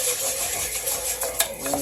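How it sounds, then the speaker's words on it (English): Rice being stirred through oil in a pan on the heat for Mexican rice, giving a steady soft scraping and shuffling with faint sizzle and an occasional utensil tap against the pan, close by with no talk. "Saturate the hell out of this rice. Get it all good and mixed up in there."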